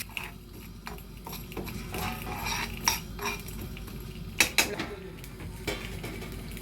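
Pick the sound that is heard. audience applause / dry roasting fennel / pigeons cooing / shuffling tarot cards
dry roasting fennel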